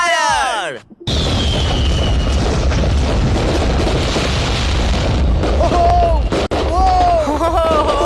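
Large, costly fireworks launch with a whistle, then a loud sustained roar of bursts and crackling close by, with shouting voices rising over the din near the end.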